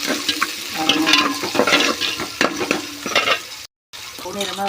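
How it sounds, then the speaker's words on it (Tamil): Chopped shallots sautéing in a pan until golden for a lentil dumpling kuzhambu, giving a steady close sizzle with intermittent stirring scrapes and a brief gap of silence near the end. "சின்ன வெங்காயத்தையும் கட் பண்ணணும் நல்லா வதங்க விடணும் பொன்னிறமாக வர்ற மாதிரி வதங்க"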